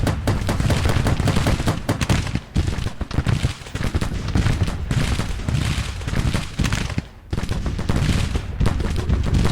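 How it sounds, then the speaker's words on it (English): Gatling guns in Grand Tactician: Civil War pour out dense, continuous rattling fire mixed with scattered musketry, loud and sustained with only a brief lull near the end. "And now he's taking fire from the damn Gatlings."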